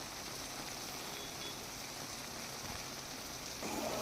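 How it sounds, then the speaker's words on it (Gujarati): Steady unseasonal rain falls in a constant, even hiss with no pauses, heard from a moderate distance, in Ambaji, Banaskantha, Gujarat. "આજે ગરમીના ભારે ઉકળાટ બાદ જે આ વરસાદ પડવાની શરૂઆત થઈ છે"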